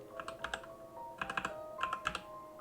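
Keys clack on a computer keyboard in three short bursts of quick, close taps as a search term is typed, quiet and alone without talk.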